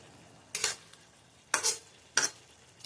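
Bottle gourd simmering in milk with a little oil, with three short bursts of stirring and scraping in the pot.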